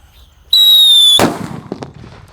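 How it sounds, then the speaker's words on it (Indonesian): A Pearl Thunder firecracker inside a water gallon gives a loud fizzing whistle from its fuse, then goes off in one sharp, heavy bang, followed by a few faint clatters. "Kita nyalakan guys, Pearl Thunder."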